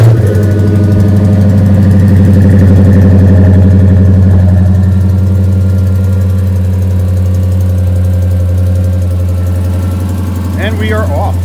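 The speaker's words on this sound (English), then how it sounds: "let's get a cold start" A Dodge Ram Rumble Bee with a Hemi V8 on a cold start, settling into a loud, deep, steady rumbling idle recorded close up throughout.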